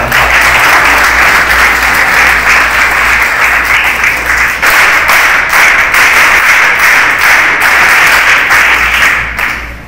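Loud audience applause at a gathering, a thick, continuous wash of many people clapping that stays strong and even throughout, tapering only in the final moment.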